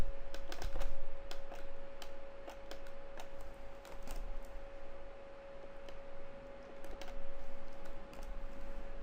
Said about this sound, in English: So I'm going to type in it.